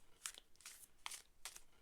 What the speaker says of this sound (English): messy shuffle